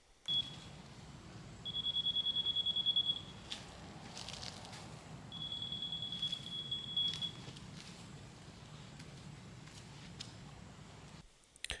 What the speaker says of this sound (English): I put my laser level receiver back up there, you should hear the beep at the top